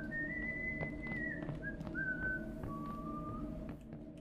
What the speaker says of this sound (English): He's whistling for sure.